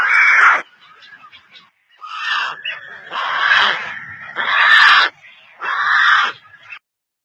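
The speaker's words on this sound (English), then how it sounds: "Pelican." A pelican gives five loud, harsh, honking calls up close, each a short burst separated by brief pauses.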